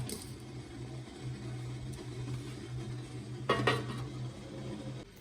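A bowl of sweets is set down and covered with a lid, giving a brief clatter and clink of dishware midway through a quiet kitchen with a low steady hum.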